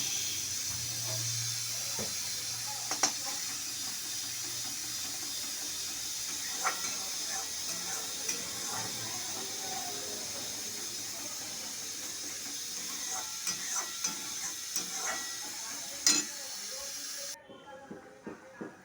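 A pot of fish curry with water boiling, a continuous hiss and steam sound with scattered small pops and bubbles, steady and close throughout.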